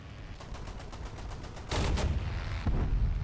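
Rapid bursts of heavy automatic gunfire from a Wirbelwind anti-aircraft gun in War Thunder, a fast stuttering patter that breaks into louder booming volleys, with no voices.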